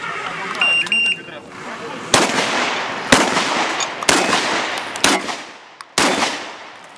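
Gunshots at a practical shooting range in Russia: a series of five loud, sharp cracks spaced about a second apart, each ringing out with a decaying tail, after a short electronic beep-like tone at the start.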